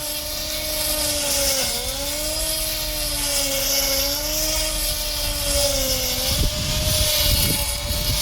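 A battery-powered GTM grass trimmer runs steadily with a smooth electric whine and wavering pitch, loud and close, then rustles and chops through grass near the end.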